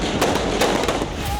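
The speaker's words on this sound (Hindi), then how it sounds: "गोलियां चलाई जा रही हैं" Gunfire crackles during street riots in Nigeria, a rapid string of sharp distant cracks over a dense background roar of crowd and noise.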